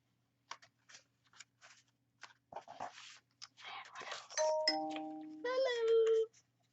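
Phone ringtone that mimics a doorbell, a clear two-tone chime rising after quiet whispery rustling and soft handling noises, fairly close and clean.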